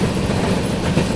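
A train runs on the Dhanushkodi railway line in Tamil Nadu's Madurai division, a steady close rumble of wheels and wagons with faint clickety-clack, continuous and loud without pause.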